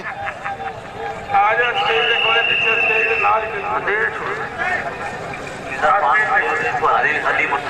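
Horses galloping at a tent pegging (neza baazi) festival in Kharian, Gujrat, with hoofbeats and the bustle of a crowd running beneath a loud announcer talking continuously over a PA.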